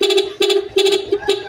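A car horn sounds in quick stuttering bursts, three short clusters of rapid beeps with brief gaps between them, near and fairly loud during work on the car by a trainee mechanic.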